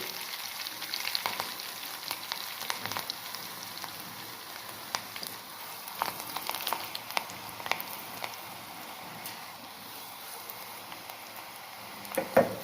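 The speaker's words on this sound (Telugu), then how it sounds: "ఉల్లిపాయలు బాగా నల్లగా కొంచెం ఫ్రై అవ్వాలండి" Onions fry in hot oil for a rasam tempering, a soft, steady sizzle with scattered crackles and pops, heard close and fairly quiet.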